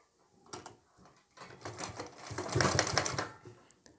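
Sewing machine stitching the folded hem of a suit, a close rhythmic mechanical whirr that starts in short bursts and then builds into a faster, louder run before slowing.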